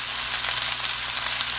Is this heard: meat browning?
yes